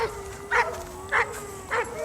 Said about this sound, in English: Sorry about these dogs.